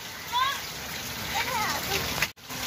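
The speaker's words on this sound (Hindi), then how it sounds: "ये देखो ये झरना चल रहा है" Rainwater pours off a rooftop tank like a small waterfall, a continuous close splashing rush, with voices and faint chirping sounds in the background.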